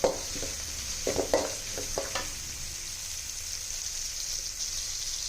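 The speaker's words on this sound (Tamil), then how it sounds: "இப்போ சீக்கிரமாக கொஞ்சம் வெங்காயம் வதங்கிடும்" Sliced onions sauté with salt in a pan for chicken chinthamani, giving a steady soft sizzle with a few scraping stirs near the start before settling into a constant hiss.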